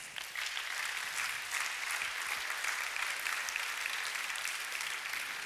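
A church congregation at a Sunday service claps together in sustained, dense applause that continues steadily throughout.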